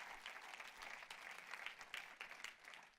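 A church congregation claps for the King of Glory during a sermon. The applause is soft and distant, a steady patter with no voice over it.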